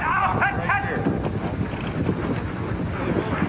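Sled dogs barking during an unlimited class sled dog race, a few sharp barks early on, then a steady outdoor wind rush with faint yips in the distance.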